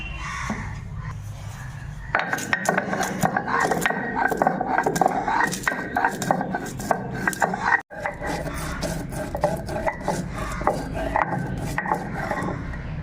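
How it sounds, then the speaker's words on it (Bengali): Raw spices for fried rice are ground on a sil-pata grinding stone, giving close, repeated rhythmic scraping and rubbing strokes that start after a quiet couple of seconds and continue steadily. "সব কাঁচা মশলা এবার পাটাতে আমি বেটে নেবো"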